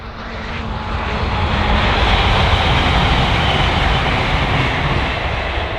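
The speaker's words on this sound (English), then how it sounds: "there's another train going" A train passes by with a loud, steady rushing roar that swells to a peak midway and eases slightly toward the end, with no voices.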